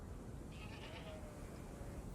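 Sheep on the Faroe Islands bleat once, faintly and at a distance, over a steady outdoor wind and background noise.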